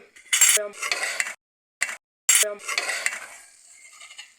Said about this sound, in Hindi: ये मैं मिक्स इसलिए कर रही हूँ क्योंकि कलर जो है इसका मिक्स हो जाए